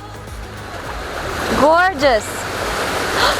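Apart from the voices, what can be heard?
ocean waves splashing on the beach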